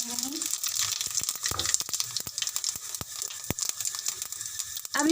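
Cumin seeds and curry leaves hit hot oil already holding fenugreek seeds, cooking khandiya: a steady close sizzling hiss with sharp crackling pops scattered throughout, and a voice briefly at the start and end.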